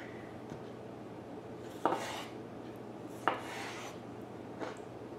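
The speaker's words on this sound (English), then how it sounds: "So slice however many tomatoes you want to get going." A knife slices through heirloom tomatoes on a cutting board for a vegan salad, giving three short crisp cuts spaced a second or more apart over a soft steady background hum.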